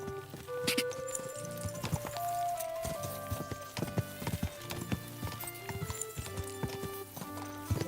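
Horse hooves clip-clop steadily in Kingdom Come Deliverance 2, a rhythmic run of close, clear footfalls set against game music, with a brief whinny-like sound in the mix.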